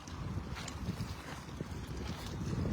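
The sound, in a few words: strong headwind at sea while fishing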